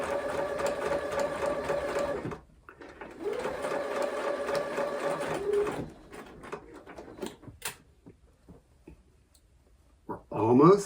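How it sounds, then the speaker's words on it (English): A sewing machine stitches fabric slowly along a curved seam, in two steady bursts of rapid needle clatter separated by a pause, then scattered clicks and pin handling, followed by another short whir at close range. "And really sew slowly."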